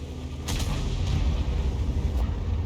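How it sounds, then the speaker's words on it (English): A tank cannon fires in World of Tanks, a heavy tank battle with an Oho against a Tier 10 Soviet heavy: a deep booming report followed by rumbling low battle noise and a couple of faint distant thumps. "he's got his first shot on the enemy"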